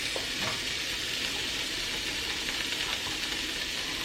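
Onions, celery and carrots sautéing in a pot, making a soft, even sizzle that runs continuously at a fairly low level, with faint stirring noises and no talk.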